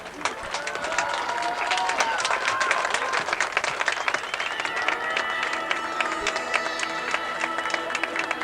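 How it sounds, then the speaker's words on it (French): A crowd at an outdoor show-jumping event applauds riders on their lap of honour, scattered clapping and some cheering spread across the stands, mixed with other voices and an announcer talking over it. "je vous demande de les applaudir"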